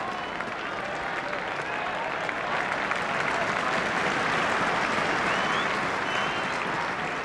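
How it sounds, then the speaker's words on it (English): A football crowd at a European Cup quarter-final between Nottingham Forest and Dynamo Berlin applauds and cheers young player Bryn Gunn, a broad, sustained roar of clapping with commentary over it. "Crowd rise to young Bryn Gunn."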